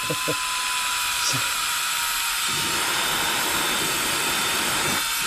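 Battery-powered Meco Eleverde air duster blower running steadily, a loud, high-pitched whooshing whine that holds constant throughout, with a couple of brief clicks near the start.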